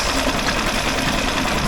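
An outboard boat motor running in reverse gear makes a loud, steady, close mechanical hum with a rapid rattling throb and no pauses or voices.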